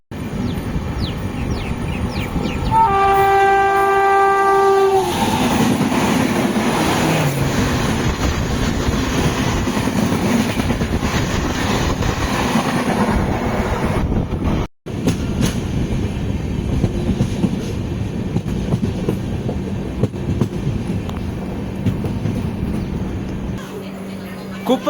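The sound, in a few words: diesel locomotive train passing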